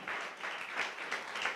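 Worshippers in a church clap together in a continuous, even spatter of applause, fairly soft and slightly distant, swelling in gentle pulses without any voices on top.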